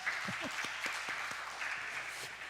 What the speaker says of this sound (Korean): 이분들에서 박수 한번 주시기 바랍니다